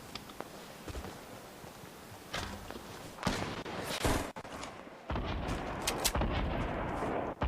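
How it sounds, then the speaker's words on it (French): Rapid bursts of sniper gunfire in Fortnite crack repeatedly over a noisy, busy background, some shots sharp and close, others more distant, with no talking. "je me mange des balles de snipe"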